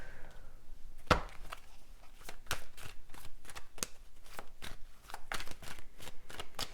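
Tarot cards shuffled by hand, a quick series of crisp riffling bursts and soft slaps in a steady rhythm, close and moderately loud with no talking.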